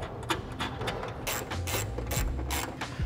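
Ratchet clicking in quick bursts while tightening six nuts on a TRD trunk lid spoiler of a 2022 Toyota GR86, close up, with faint mechanical rattles between strokes and no talk.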